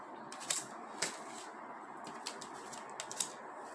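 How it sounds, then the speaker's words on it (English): Tarot cards being shuffled by hand: soft, faint riffling and a few sharp snaps and flicks at irregular intervals over quiet room noise. "it's hard for me to shuffle and talk at the same time."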